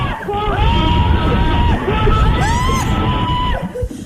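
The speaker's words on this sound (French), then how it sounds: "La documentaliste qui crie" A school librarian in a French school library shouts and yells over a noisy, echoing room of excited voices, with loud cries rising and falling throughout.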